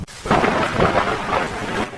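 Heavy, steady rain with rumbling thunder in a Hindi cartoon story, a dense roar of downpour filling the whole stretch after a brief quiet opening, with no voices.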